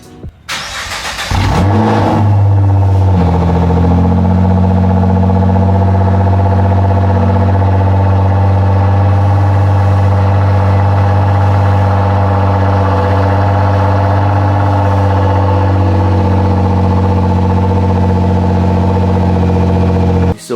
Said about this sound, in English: Let's turn on the GTR, leave you guys with the cold start.